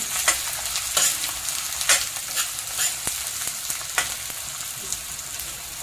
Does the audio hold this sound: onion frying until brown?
yes